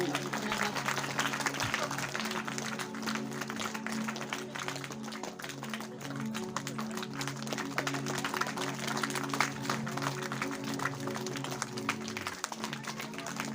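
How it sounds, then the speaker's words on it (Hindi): Audience applause at a Shri Ram Katha religious gathering in Barabanki, a steady crowd clapping that runs continuously throughout, with tonal background music or a voice humming underneath. "आप लोगों से निवेदन है मीठी मीठी तालियां बजाते रहें"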